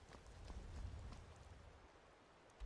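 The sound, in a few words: rain in Skyrim video game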